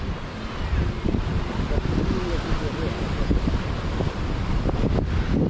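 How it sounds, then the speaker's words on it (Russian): Strong wind buffets the microphone with a constant low roar, surf rumbling underneath, on Massandra beach in Yalta in September. "очень сильный ветер, поэтому приходится орать."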